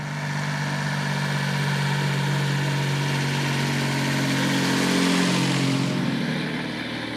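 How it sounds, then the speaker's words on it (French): A 1935 Triumph Gloria with a six-cylinder engine runs steadily, a smooth continuous mechanical drone with low harmonics that shifts slightly in pitch near the end, close and loud throughout. "on a une Triumph Gloria de 1935 avec un moteur 6 cylindres"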